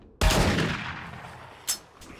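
A shotgun blast in the zombie survival game 7 Days to Die, a single loud sharp report with a decaying tail, followed by a short fainter impact or click near the end.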